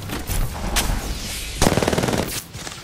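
Rapid automatic gunfire from Apex Legends rattles out in a loud, close burst of evenly spaced shots, preceded by scattered individual gunshots and in-game noise.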